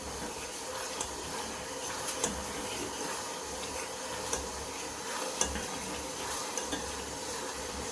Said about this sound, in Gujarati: સતત હલાવવા રાખવાનું